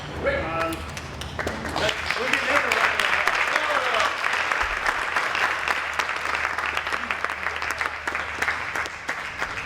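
Sustained applause from a seated audience at a regional chamber of commerce breakfast, dense clapping rolling on steadily for several seconds with brief voices over it at the start.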